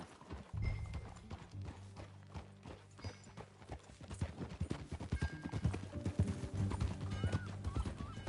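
Horse hooves clip-clopping in Red Dead Redemption 2, a steady, close run of hoofbeats on hard ground that quickens and thickens toward the end, with tack jingling and faint background ambience.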